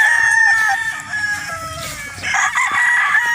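Roosters at a farm in Roxas crow loud and close, several drawn-out cock-a-doodle-doo calls overlapping with scattered clucks and no talk.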